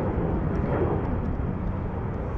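Steady, loud broadband roar of an airplane passing low overhead beneath an airport approach path, filling the whole stretch with a continuous drone and no talking.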